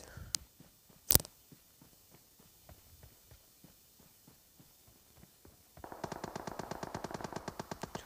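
Gunfire from a firefight in PUBG Mobile, scattered single shots early on, then a rapid sustained burst of automatic fire in the last couple of seconds, sounding moderately distant.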